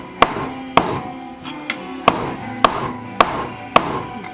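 Metal is struck repeatedly on a makeshift anvil, actually a very large hammer, during smithing: seven sharp, ringing clangs at a steady, unhurried pace, loud and close, each with a brief metallic decay and no talking.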